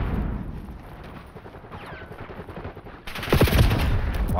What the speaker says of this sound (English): Why are you shooting me, bro?